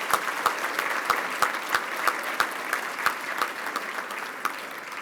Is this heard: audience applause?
yes